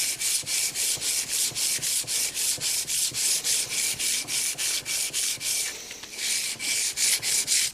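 Abrasive is worked back and forth across a steel knife blade to remove old scratches: a close, loud scratchy rasp in quick, regular strokes, about three per second, with a short pause partway through.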